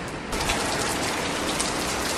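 Heavy rain falls steadily in India, a dense hiss of drops hitting surfaces close by, with no voices.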